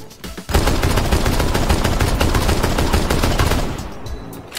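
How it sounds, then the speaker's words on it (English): M14 rifle in Rainbow Six Siege fires a fast, dense string of loud shots lasting about four seconds, then tails off, with no voices. "I like to use the M14 over the Busty shotgun, not because it has more bullets, but because the sound it makes is so intimidating"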